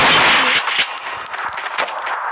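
Loud, close bursts of video game gunfire, a heavy blast at the start followed by rapid sharp shots, with no talking.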